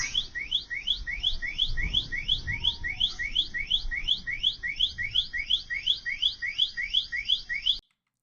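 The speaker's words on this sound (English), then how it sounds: "the rest of this video is mainly just people's alarms going off" After a drone strike on a Tel Aviv high-rise, alarms wail in fast repeating electronic sweeps, a steady chirping pattern that runs without a break for about eight seconds, with some low rumbling beneath.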